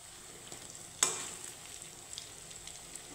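Mung dal rasbora fritters fry in oil with a soft continuous sizzle, punctuated by one sharp utensil clink and stir near the one-second mark, then small scrapes, close and without talk.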